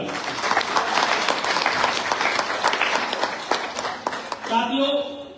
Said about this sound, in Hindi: आप इसके लिए जोरदार तालियां बजाओ